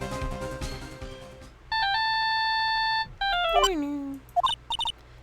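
A phone rings in the Ace Attorney game Justice for All, a steady electronic tone sequence with sustained pitched beeps, followed by falling and chirpy game sound effects, after an opening musical phrase.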